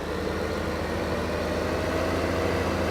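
Tractor engine idling in Farming Simulator 2015, a steady low rumbling drone that holds evenly throughout, loud and close with no talking over it.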